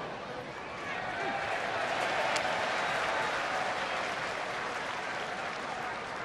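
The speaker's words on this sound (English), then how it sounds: "Little Bronx cheer here in Philadelphia for the strike from Papelbon" A large baseball stadium crowd in Philadelphia lets out a sustained, rumbling roar of boos that swells and holds after a strike from Papelbon, heard from within the stands.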